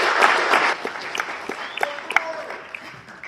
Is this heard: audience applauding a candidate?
yes